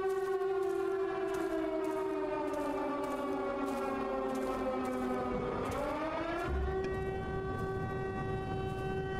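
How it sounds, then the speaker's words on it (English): Wailing sirens sound in a horror video game, a loud sustained civil-defense-style tone that slowly falls and then rises again, with pulsing background noise and no talking. "Oh, there's the sirens."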